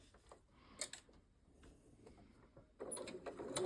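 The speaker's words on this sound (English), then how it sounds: "Continue to sew along that line." A sewing machine stitching a fabric seam slowly and faintly, with soft mechanical ticks and short runs of stitching that grow slightly louder near the end.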